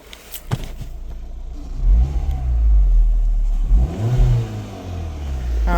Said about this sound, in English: So what I'll do now is I'll give her a rev